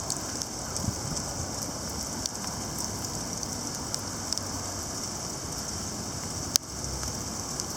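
Graupel falls like hail during early-morning convective storms, a steady granular patter and hiss with a few sharper ticks of pellets striking nearby, and no voices.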